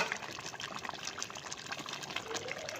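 Water pours steadily into a pot of partly cooked rice for chicken pulao, a continuous soft gushing and splashing at low level with no voices.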